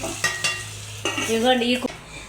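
Curry leaves fry in a pan for mutton keema, a close sizzling hiss with spatula stirring strokes and a short tonal squeak of metal scraping midway.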